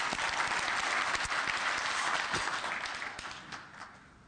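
An audience at a CEO breakfast lecture breaks into applause, a dense burst of clapping that holds steady and then tapers off toward the end.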